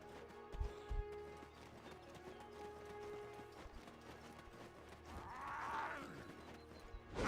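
A horse in the online game Black Desert Online clip-clops in a quiet game scene, with a few soft hoofbeats and a brief whinny-like sound near the end.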